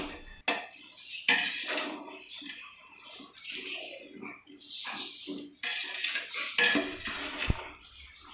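Vegetables for a 2 kg vegetable biryani being stirred and sautéed in oil in a large pot, with repeated metal utensil scrapes and clanks against the pot over a soft sizzle, close and fairly loud, no talking.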